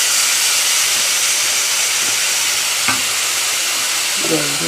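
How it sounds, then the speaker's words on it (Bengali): Chili, turmeric and coriander-cumin powders fry with a splash of water in a pan for a Bengali potato curry, a loud, dense steamy hiss and sizzle with a couple of faint utensil clinks. "মশলা বার করে লঙ্কা গুঁড়ো, হলুদ গুঁড়ো আর ধনে জিরে গুঁড়ো, জল দিয়ে একটু জল দিয়ে"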